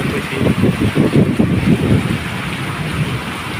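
Rain pouring steadily outdoors, a loud close hiss of drops with a rumbling low pulsing underneath in the first half that eases off toward the end.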